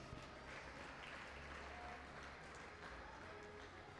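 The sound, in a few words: audience applause for cross country medalists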